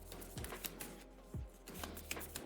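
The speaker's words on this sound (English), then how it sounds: "Okay, so everything's all shuffled." Playing cards shuffled for a solo run of the zombie board game After The Virus, giving two or three quick riffling bursts with soft papery flutters and light handling between them, close and fairly quiet, with no talking.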